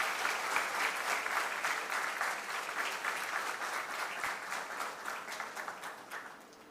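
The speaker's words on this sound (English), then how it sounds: "I just would request all of you to give a big round of applause" An audience applauds steadily at the close of an empowerment talk, a dense wash of many hands clapping at even volume for several seconds before tapering slightly at the end.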